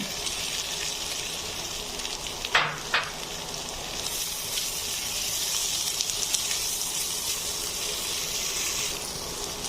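About 300 grams of minced beef drops into a pan of frying onions with a couple of sharp splatting hits, then settles into a loud, continuous sizzle.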